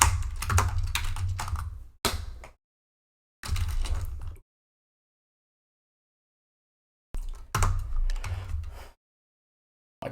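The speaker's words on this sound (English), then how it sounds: "My typing's horrible." Bursts of rapid typing on a computer keyboard, close and clicky, separated by stretches of silence, with no talking.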